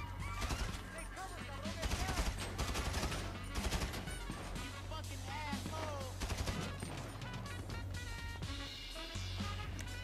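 Gunfire in the video game GTA V during a run-and-gun fight, with rapid bursts of shots and fusillades repeating over the stretch, mixed with game effects and occasional player talk.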